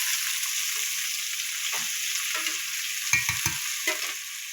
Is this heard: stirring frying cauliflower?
yes